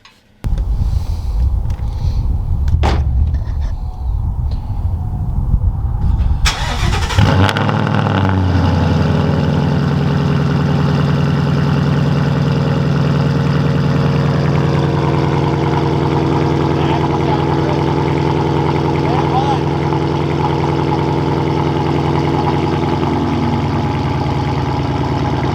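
A 2017 Ford Mustang GT fitted with a new X-pipe exhaust cranks and fires with a loud bark around seven seconds, then settles into a deep, steady rumbling idle that carries on, with brief voices before the start.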